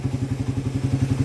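Motorcycle engine idling with a 28mm Keihin carburetor fitted, a close, steady low putter with even rapid firing pulses and no talking over it.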